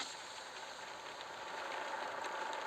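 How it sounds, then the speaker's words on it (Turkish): A truck engine in Truck Simulator Ultimate idles steadily with a faint, even rumble and slight rattle throughout, quiet and continuous with no talking. "camları açtığınızda motor sesi daha fazla geliyor"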